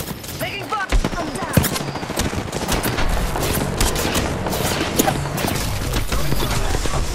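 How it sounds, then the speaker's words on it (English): Dense, continuous gunfire fills an Apex Legends firefight, with rapid overlapping shots and bursts from multiple weapons, loud and close throughout, layered over chaotic combat effects. "Taking fire!"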